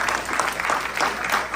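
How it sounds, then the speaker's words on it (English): A short burst of audience clapping in a room during a debate about Amendment 3, dense and fairly close, with a few louder individual claps in the wash. "So can we just give a round of applause for him handling this stuff?"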